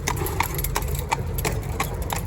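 A single horse's hooves clip-clopping on a town road while driving, a steady even rhythm of crisp close strikes over low rumbling noise.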